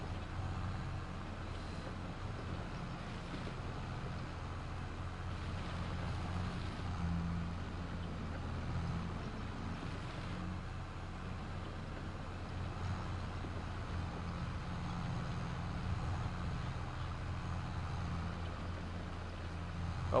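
A steady low engine drone hums continuously, a video game tractor in Farming Simulator running at an even pace with slight fluctuations and no talking.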